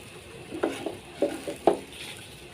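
A spoon scrapes and stirs fried rice in a pan, three or four distinct close scraping strokes over a soft, steady sizzle.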